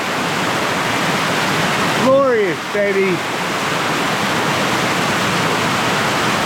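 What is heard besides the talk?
water splashing down from a waterfall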